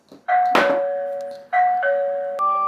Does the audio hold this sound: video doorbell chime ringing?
yes